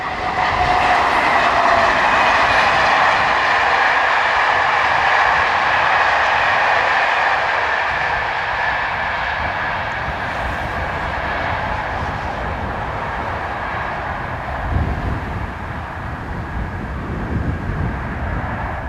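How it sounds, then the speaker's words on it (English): A BB7200 electric locomotive hauls a passenger service from Annecy to Lyon past the trackside, a loud steady roar and rumble of wheels on rail sustained throughout, with a faint clatter of passing cars. "Heading towards the camera is BB7200 with the 1353 from Annecy to Lyon"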